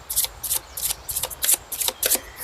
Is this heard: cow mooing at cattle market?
no